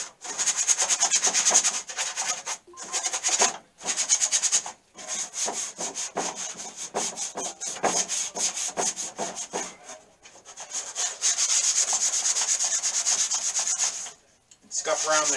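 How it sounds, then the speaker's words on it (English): A 100 grit sand sponge scuffs the inside of a metal tool box in quick repeated rubbing strokes, close and loud, with short pauses between bursts. "I'm using a little light, I think it's 100 grit sand sponge, just to scuff up the inside"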